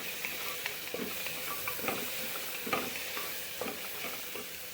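Spices and tomato sizzle in a frying pan under a steady hiss, with a spoon scraping and stirring in irregular strokes up close.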